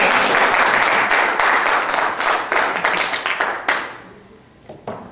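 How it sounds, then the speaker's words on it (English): Loud audience applause from a crowd at a DaVinci Institute talk on liquid crystal, dense steady clapping that thins and fades toward the end, with a few scattered claps trailing off. "Can I get a round of applause?"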